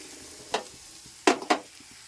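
Spice paste stirred into hot oil while cooking jackfruit curry gives a faint background sizzle broken by three short, sharp scraping clatters of the spoon against the pan.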